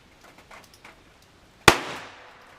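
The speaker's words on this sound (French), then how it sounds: "Et je tire juste en bas du visuel du noir." One sharp, loud gunshot from an Enfield No.2 Mk1 revolver at target practice, with a short echoing tail and faint murmurs of background noise before it.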